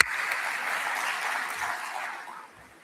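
A conference audience at an annual meeting afternoon session breaks into brief, steady applause, a close wash of clapping that fades away after under three seconds.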